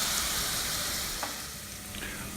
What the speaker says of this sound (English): these vegetables have been simmering on a medium heat for about 10 to 12 minutes, and the celery and onions are somewhat translucent